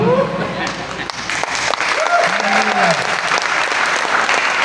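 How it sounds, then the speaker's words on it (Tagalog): A church congregation breaks into loud, sustained applause, a dense wash of clapping filling the room, with voices calling out and faint tonal sounds rising through it. "Wala na bang ilalakas sa palakpak para sa Panginoon?"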